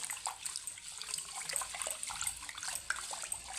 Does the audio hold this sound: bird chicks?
no